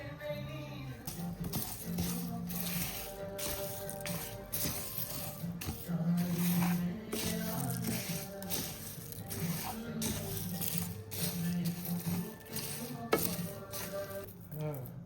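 Curry leaves are dry-roasted and stirred in a pan while making Jaffna-style curry powder, a soft continuous rustling scrape with a gentle sizzle, and a voice talking over it at times.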